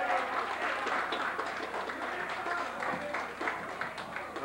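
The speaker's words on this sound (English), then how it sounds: "give her a nice round of applause." An audience applauds at a live polka concert at the PACC in South Hadley, MA, in 1988, a steady wash of many hands clapping at moderate distance throughout.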